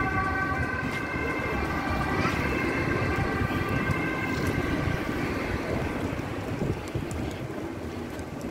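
Steady outdoor wind buffets the microphone in a constant rough roar while walking to a store, with a faint tonal whine running through the first half.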